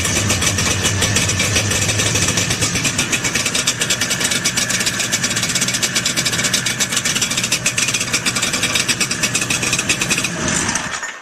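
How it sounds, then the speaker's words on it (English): Vintage snowmobile with a Kohler engine, pull-started and running at a steady loud idle close by, a rapid even chugging that continues until it cuts off abruptly at the end. "Seems like this sled, one pull and it starts."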